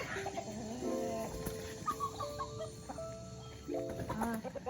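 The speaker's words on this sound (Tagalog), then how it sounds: "Bakit may manok?" A chicken clucks and calls in a rural provincial farmyard where ducks are kept: several short, close clucks and squawks in uneven bursts over a low outdoor background, with no talking.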